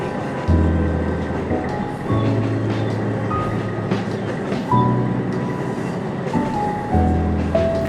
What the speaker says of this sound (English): Now the train is getting closer to my destination, Godo Station